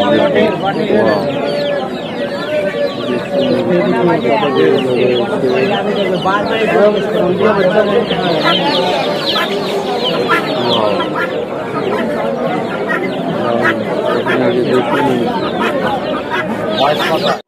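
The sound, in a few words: various chickens clucking at a bird market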